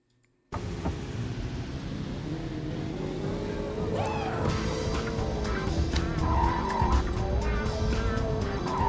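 A car in the video game Grand Theft Auto starts loudly and drives on steadily, its engine droning under repeated tire squeals and skids that build toward the end.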